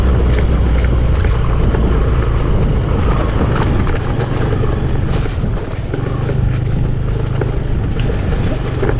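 A vehicle climbing a steep road up to a small hillside village in Araiyur, its engine a steady close rumble under heavy wind buffeting the microphone, with no talk.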